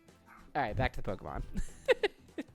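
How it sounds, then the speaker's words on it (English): A neighbor's small dog barks and yips in the background, a few sharp short barks under a person talking close by. "Sorry if you can hear my neighbor's dog barking."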